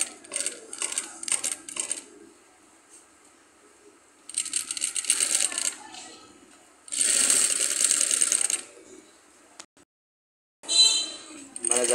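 A tailor's sewing machine stitches yellow and black piping onto a collar in several bursts of rapid mechanical clatter, separated by quiet pauses, up close and loud.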